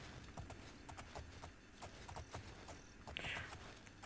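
A horse's hooves clip-clop steadily at a walking pace in the video game Oblivion, a regular rhythm of soft thuds over constant background ambience, with a brief high whinny-like sound near the end.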